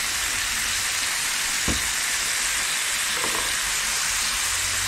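Steaks fry in a hot pan with a loud, continuous close sizzle and crackle, broken now and then by faint soft bumps.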